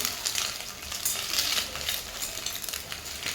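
Eggs coated in turmeric and spices sauté in hot oil in a pan, giving a steady close sizzle broken by stirring scrapes, with no talking.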